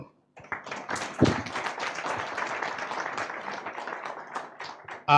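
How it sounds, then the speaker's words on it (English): Audience applause for Ambassador Wamoto at a foreign service academy gathering: a dense, steady round of many hands clapping that fills the room for about five seconds, then ends abruptly. "Another good round of applause to Ambassador Wamoto."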